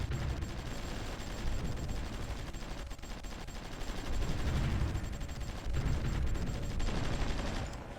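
Artillery fire in the strategy game Supreme Ruler Ultimate, dense rumbling volleys of distant booms rolling continuously, loud and low with no pauses.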